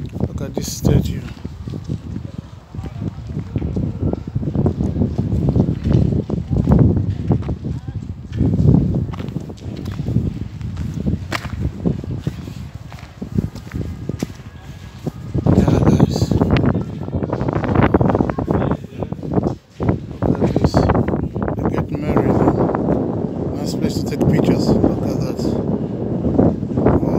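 Gusty wind buffets the microphone on a Stockholm city street, loud rumbling blasts rising and falling over footsteps, with people talking throughout.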